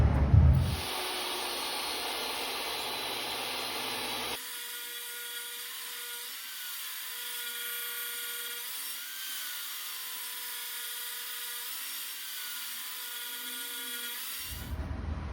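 A power saw cuts wood down to size for an industrial-style end table top, about 17 by 24 inches; a steady, loud whine runs nearly the whole length alone, easing slightly in pitch partway through before stopping abruptly.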